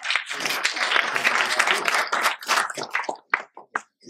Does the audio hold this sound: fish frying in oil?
no